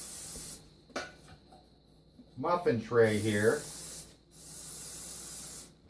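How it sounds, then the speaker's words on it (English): Crisco non-stick cooking spray sprayed onto a deep dish muffin tray, with three hissing bursts: a short one, then two longer ones. Someone speaks briefly between the bursts. "This is a non-stick spray. Happens to be Crisco brand because it's gluten-free."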